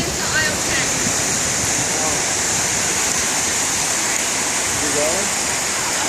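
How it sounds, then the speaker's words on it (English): Floodwater from a heavy rainstorm pours steadily into a store building, a continuous broadband rush like a waterfall filling the space, loud and unbroken, with brief faint voices in the background. "You guys see the water coming in the building."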